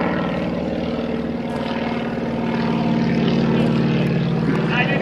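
A Stearman biplane fitted with twice the usual horsepower drones overhead at a 2010 airshow, its propeller engine a loud, continuous roar that swells slightly in the second half.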